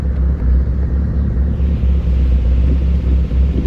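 SRT4-swapped Dodge Spirit R/T on a chassis dyno, its engine a loud steady low rumble throughout without pause, heard from inside the car.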